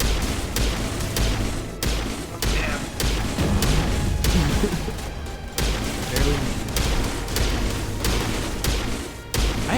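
A grenade detonates in a Mass Effect firefight among rapid, repeated sharp bangs and booming thuds that keep coming throughout.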